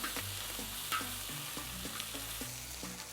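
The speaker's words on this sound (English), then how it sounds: "So next I'm adding our chorizo" About a pound of chorizo frying on a discada outdoors, a steady close sizzle with regular scraping and tapping strokes of a spatula as it is stirred, no voices.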